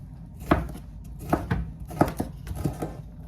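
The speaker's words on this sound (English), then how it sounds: "So we're going to chop these up" A knife chops fresh cilantro and tomatoes on a cutting board in close, distinct strikes, about eight in an uneven rhythm with short pauses between groups.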